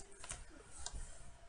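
Typing on a computer keyboard: a short run of quick, soft key clicks at close range, with several sharper taps, and no talk.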